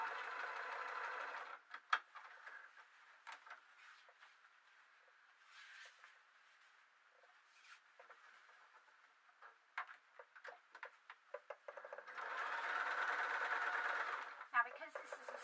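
A sewing machine stitches a cross-over blouse in quick, whirring bursts of rapid needle ticking, close and fairly quiet, stopping and starting with pauses between runs while someone talks over it.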